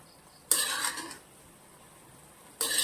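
Gobi manchurian is scraped from a pan into a bowl in two brief bursts of metallic scraping and clinking, separated by a quiet pause.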